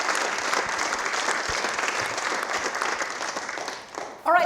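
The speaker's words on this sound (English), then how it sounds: "let's just give them a round of applause for being here and taking the time." An audience at a community rescue squad event gives a round of applause that holds steady for about four seconds before a voice cuts in and the clapping stops.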